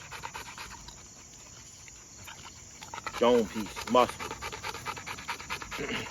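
A muscular bully-breed lead dog named Snow pants steadily and rhythmically close to the microphone on a late-night outing, with crickets chirping behind and someone talking over it.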